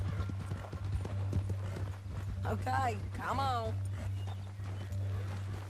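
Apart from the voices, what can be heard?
horse hooves clip-clopping in video game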